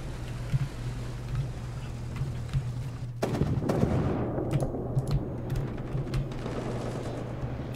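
Tank cannon and gunfire in War Thunder, where Italian tanks and a B1 Bis battle: a sharp blast and rumbling burst erupt midway over a constant engine drone, followed by scattered crackling impacts.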